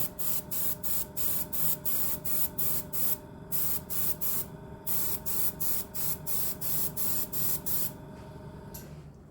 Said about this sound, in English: You're probably wondering why I'm spraying like this.